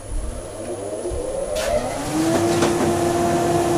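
A wood lathe turning a dusty laburnum log spins up to about 1,000 revs. Its motor whine climbs steadily in pitch and grows louder over a few seconds, with a brief clatter partway through.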